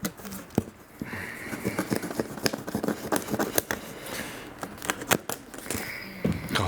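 Scissors slicing through the cardboard packaging of a Neewer dimmable 18-inch studio ring light, a run of sharp close snips and crackling card over nearly seven seconds.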